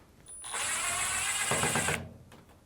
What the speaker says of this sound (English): Start by removing the cover on the side and then removing the two Phillips screws.